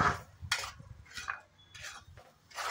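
Beaten eggs, five of them, being stirred in a pan for egg bhurji, with a spoon scraping and clinking against the pan in several rhythmic strokes, close and fairly quiet over a faint low sizzle.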